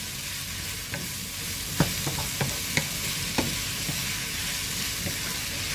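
Courgettes and eggs are stirred in a frying pan over a steady sizzling hiss, with a handful of light spatula knocks and scrapes spaced irregularly across the few seconds.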